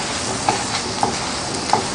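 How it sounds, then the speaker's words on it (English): Lacha paratha frying in oil on a hot pan, giving a steady loud sizzle with light regular taps of a spatula roughly every half second, and no talk. "Now we'll put oil on one side and flip the paratha over."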